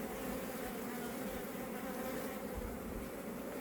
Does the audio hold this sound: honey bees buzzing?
yes